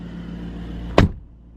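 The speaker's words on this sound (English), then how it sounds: "shutting the door here" The door of an Aston Martin DB12 Volante convertible shuts with one solid, close thud, followed by a short settling rattle, over a faint steady hum from the car.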